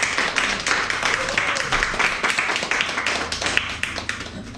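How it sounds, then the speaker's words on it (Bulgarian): Festival audience applauding the festival's founder and director at an anniversary opening, many hands clapping in a lively, uneven stream that holds steady for several seconds. "И сега с аплодисменти за инициатора и директора на фестивала Светослав Николов"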